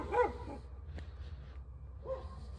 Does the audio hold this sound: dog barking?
yes